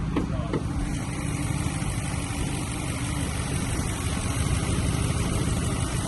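A Lexus LS430 engine idling roughly while smoke comes from the engine bay, heard as a steady, close low rumble that stays continuous and alone, with no talking.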